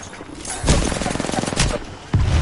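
Bursts of automatic gunfire from Apex Legends play close and loud, with rapid rattling volleys starting just after half a second, another burst near 1.6 seconds and a fresh burst at the end.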